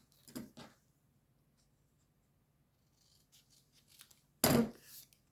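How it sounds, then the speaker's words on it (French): Scissors snip through a strip of tape: a short cluster of crisp cuts, a quiet pause, then a louder, sharper snip near the end, all close and with no talking. "Alors, il faut que je la coupe."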